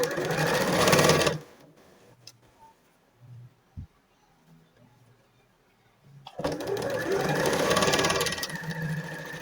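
A sewing machine runs in two loud sustained bursts, at the start and again at the end, while stitching a doll's dress; quiet handling noises and soft thumps fill the pause between.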